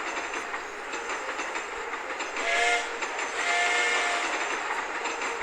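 Short game-style train whistle toots sound twice over a steady rolling rail hum in the game Train Station 2, moderately loud and without speech.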